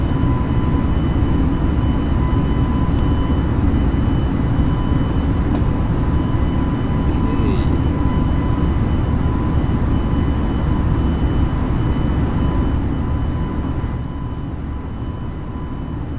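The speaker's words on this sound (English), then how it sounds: "Yeah, the engine sounds quite loud." Loud, steady jet-engine drone from an Airbus A320 in a China Airlines flight simulator, holding an even roar for the whole stretch and easing slightly near the end, with no talk.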